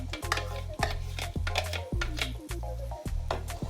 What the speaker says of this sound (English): Our blended ingredients are going in straight now.